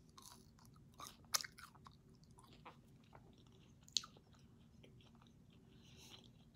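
Quiet chewing and crunching of food close to the mic, with a couple of sharp bites standing out against a low, steady background hum.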